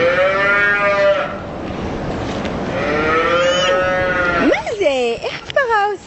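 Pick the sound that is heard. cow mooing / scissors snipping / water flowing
cow mooing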